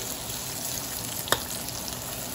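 Mushrooms cook in a frying pan with a soft, even sizzle and a single brief clink near the middle.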